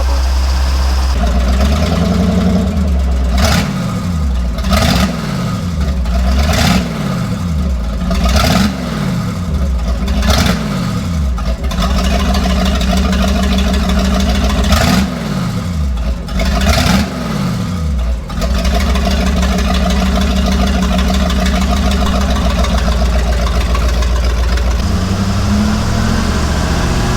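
A used, cheap speedboat engine with something smoking revs repeatedly, each burst a rising roar that falls back to a rough idle, loud and close, in a run of quick blips before settling into idle.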